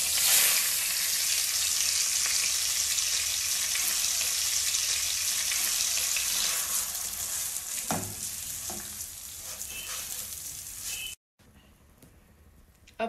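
Butter and a cup of sugar cook in a pan for caramel popcorn, making a loud, dense sizzle that slowly fades over several seconds, with a few stirring scrapes and a brief silent gap near the end.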